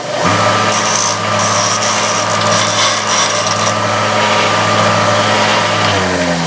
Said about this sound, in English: that's all I had to do was just kind of grind down that tip area